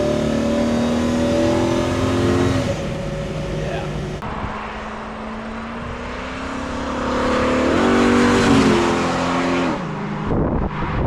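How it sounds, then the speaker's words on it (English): A 1966 Chevrolet Nova restomod with an LS-swap engine drones steadily from inside the cabin, its pitch rising and falling as it accelerates, with someone talking over it throughout. "Motor running smooth,"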